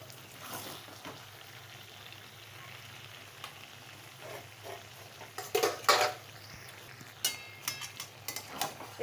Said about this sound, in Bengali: বাঁধাকপিটা সেদ্ধ করে জলটা চিপুড়ে বাঁধাকপিটা দিয়ে দিচ্ছি